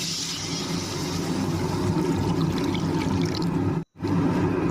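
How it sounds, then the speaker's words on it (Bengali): Water pours into a pan of Bengali bhetki fish curry with potato and cauliflower, a steady, close splashing rush running for several seconds before a brief break. "তারপরে আমি এর মধ্যে জল দিয়ে দেব।"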